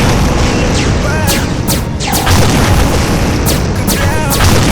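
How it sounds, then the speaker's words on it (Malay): An explosion sound effect booms loudly and keeps rumbling as a dense, continuous roar with a few sharp bursts on top, filling the whole moment with no clear talk. "Aku dalam bilik dengar bunyi letupan"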